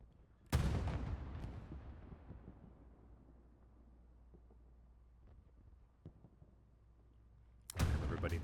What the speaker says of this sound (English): Whole bunch of rounds being exchanged there across the riverbank.